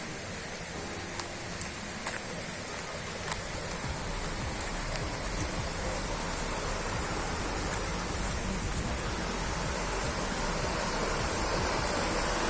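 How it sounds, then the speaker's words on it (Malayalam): Steady broadband water rush of a stream flowing beside an areca nut plantation in Palakkad, Kerala, continuous and fairly close throughout with a few faint clicks on top. "ഇതിൻ്റെ സൈഡിൽ കൂടെ ഒഴുകിക്കൊണ്ടിരിക്കുന്ന തോടാണ്"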